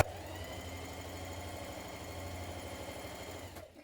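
A home sewing machine runs steadily, stitching along the bottom of pyjama bottom pockets, a close, even motor whirr with rapid needle rhythm that continues for a few seconds before cutting off near the end.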